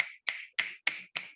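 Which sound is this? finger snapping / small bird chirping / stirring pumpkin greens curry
finger snapping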